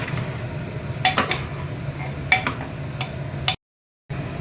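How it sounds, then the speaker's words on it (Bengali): A spoon stirs dal with spices in a pot while mutton haleem is made, giving a few scattered metallic scrapes and clinks close by over a steady low background hum, with a brief dropout near the end. "ডালটাকে মশলার সঙ্গে নেড়ে চেড়ে শুধু জল দিয়ে দিচ্ছি"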